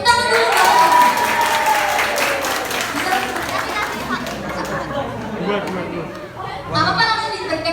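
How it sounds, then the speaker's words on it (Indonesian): Audience clapping during an eco-print workshop, a burst of applause mixed with lively crowd chatter and voices that fades and swells again, heard fairly close. "Tepuk tangan dulu."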